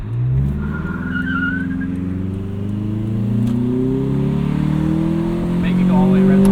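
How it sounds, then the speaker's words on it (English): A Toyota Camry engine fitted with a carbon fiber intake, revving steadily upward in one long, loud, continuous climb toward redline, with a deep growl rising in pitch. "it's like if somebody turned the gain up on the engine noise"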